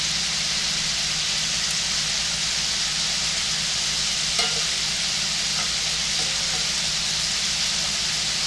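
Whiskey jerk spot prawns frying in a pan, a steady loud sizzle with an even hiss running unbroken throughout.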